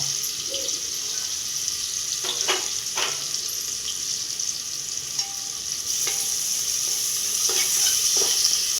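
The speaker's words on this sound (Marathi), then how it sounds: "कडकडी तापलेलं आहे आपण त्यात कांदा घालून घेऊया बारीक चिरलेला कांदा आहे" Finely chopped onion frying in very hot fat for a mutton rice dish, giving a loud, continuous sizzle with occasional stirring scrapes and clinks, and no talking.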